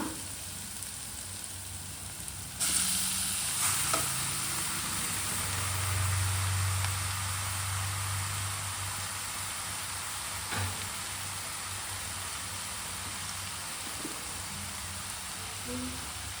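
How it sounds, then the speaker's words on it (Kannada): Leafy greens hit a pan of fried onions, setting off a steady loud sizzle and hiss that swells after the greens drop in, then settles into continuous frying noise. "ಈರುಳ್ಳಿ ಎಲ್ಲ ಚೆನ್ನಾಗಿ ಫ್ರೈ ಆಗಿದೆ. ಈಗ ಸೊಪ್ಪು ಹಾಕೊಳ್ಳೋಣ"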